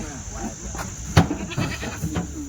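Twenty Kathiawadi goats bleat in short calls amid a noisy farmyard background, with a sharper bleat standing out midway and people talking faintly nearby.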